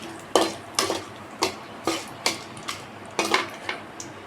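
Bay leaves stirred in a metal cooking pot for pulao, a spoon scraping and clinking against the sides in about ten distinct strokes, close and fairly quiet, with no talk.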